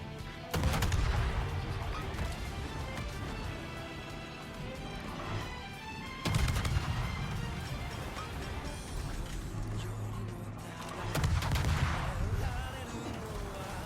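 Naval guns on the Kiev destroyer firing in a ship combat video game, three heavy booming salvos a few seconds apart, each followed by a rumbling decay over steady background noise.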